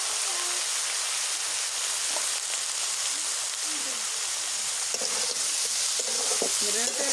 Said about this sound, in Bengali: তেলার মধ্যে আগে নাড়াচাড়া করে ভেজে নিই তারপরে মশলা দিই